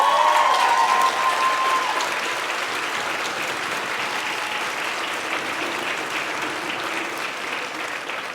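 Sustained, full applause from a large audience at a graduation ceremony, loud at first and easing slightly as it carries on steadily.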